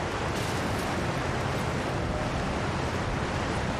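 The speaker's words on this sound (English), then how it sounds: "Waterfall." Steady broadband rush of cascading water from a waterfall in Elden Ring: Shadow of the Erdtree, a continuous close roar with no breaks, heard alone without talk.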